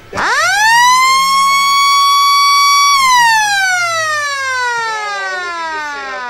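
Quarter-time siren at an Australian rules football match, a loud wailing tone that rises sharply, holds steady for about three seconds, then slowly falls away, with no talking.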